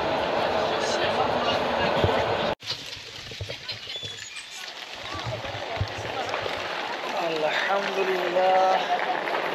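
A second-class passenger train in Morocco bound for Marrakesh, rumbling and rattling steadily underneath, with a sharp jolt midway and voices chattering over the carriage noise.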